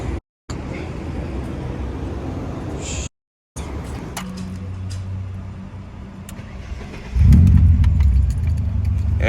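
Car fitted with a newly completed custom exhaust starting for the first time: keys jangle and a starter cranks, then the engine catches with a loud, deep roar that keeps running, with a voice talking briefly.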